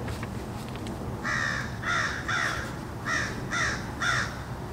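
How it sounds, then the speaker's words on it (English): Crows caw outdoors in two bursts of three harsh calls each, fairly close and clear over a low steady background hum. "The crows are here now,"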